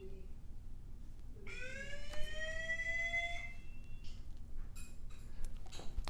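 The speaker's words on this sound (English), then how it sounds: "So that sounds the alarm." A Conico 1080P home security camera's electronic alarm sounds in a run of rising, sliding tones, then breaks into short repeated beeps, clear over a steady low hum.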